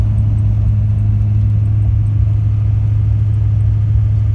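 Duramax LB7 diesel pickup truck towing a tractor up a hill, giving a steady, loud low engine rumble that holds constant throughout with no talk.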